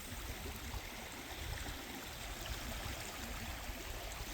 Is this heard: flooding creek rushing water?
yes